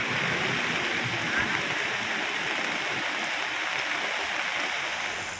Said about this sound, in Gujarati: કેટલાક વિસ્તારોમાં ભારે પવન સાથે ધોધમાર વરસાદ વરસ્યો.